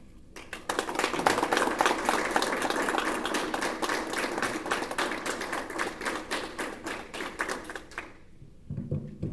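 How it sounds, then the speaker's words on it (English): A small audience claps for Chevonne Mansfield, the new interim athletic director at Florida Memorial University, at her introductory press conference: a dense patter of close, distinct handclaps that holds steady for about eight seconds, then stops abruptly. "Give her another round of applause,"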